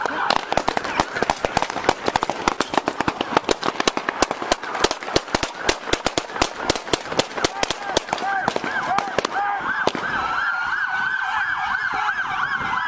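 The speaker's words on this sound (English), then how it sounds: "Shots fired, Rich." Gunfire in a Buffalo police shootout with a suspect, a long burst of sharp, rapid shots cracking in quick succession over a wailing emergency siren, the shots stopping abruptly while the siren continues alone.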